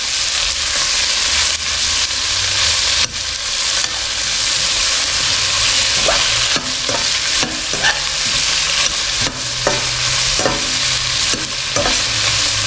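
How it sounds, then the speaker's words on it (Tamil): Long-cut onions sizzle loudly in hot oil for a roadside-style parotta salna as a spoon or spatula stirs them, with a steady frying hiss and scattered scraping strokes, close up and with no speech. "வெங்காயத்தை போட்டு நல்லா வதக்கி விடுவோம்."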